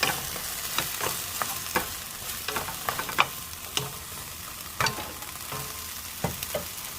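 A spatula scrapes and taps through mixed vegetables in a frying pan during a stir-fry with oyster sauce, producing irregular clicks and clatters over a soft, steady sizzle, with no voices.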